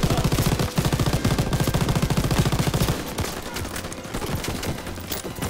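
Loud, rapid machine gun fire in the video game Call of Duty: WWII bursts continuously for about three seconds, then gives way to more scattered shots and clatter.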